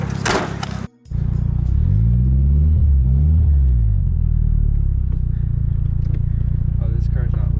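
A Nissan 240SX S13 with an SR engine, bought as a drift car with a rod knock, idles and revs with a loud, steady close rumble and a rising whine, after a brief dropout at the start.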